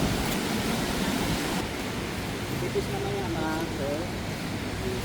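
Rough surf at a Boracay beach gives a steady broadband wash of breaking waves throughout, loud and close, with a few faint voices and tonal sounds partly under it.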